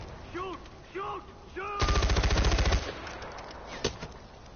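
Gunfire in the shooter game Far Cry 4: a rapid automatic burst rattles for about a second, and a single sharp shot follows shortly after. Brief tonal voice-like sounds come before the burst.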